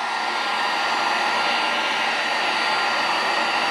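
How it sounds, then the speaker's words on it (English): A hot-air heat gun or blower runs steadily and loudly at close range while warming the outside of a 2023 BMW S1000RR wheel for a bearing install, a constant airy whoosh with no pauses. "now that we got both of our bearings out, we want to heat the outside of the wheel"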